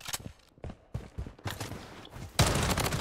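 Gunfire from the video game Blood Strike crackles in several quick, uneven bursts, some sharp and close and others muffled, ending in a loud, sustained volley.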